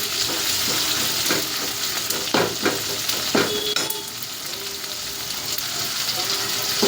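Tomatoes softening and sizzling in a pan for a black-eyed pea and dry fish curry. A continuous close sizzle runs throughout, with a few utensil clinks and scrapes against the pan midway.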